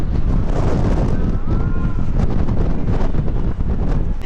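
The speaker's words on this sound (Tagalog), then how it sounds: "Lakas ng hangin." Strong outdoor wind in New Zealand roars continuously, buffeting the microphone with a heavy, steady rumble and no clear pauses.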